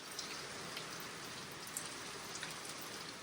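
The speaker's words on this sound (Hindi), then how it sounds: "अरे भयंकर बारिश हो गई।" Heavy rain falls steadily, a dense even hiss with scattered sharper drop hits, fairly quiet and with no voices.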